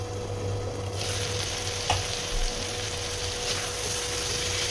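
Onion and tomato frying in a pan on the stove: a steady, close sizzle with a constant low hiss and a couple of soft stirring knocks, no talking.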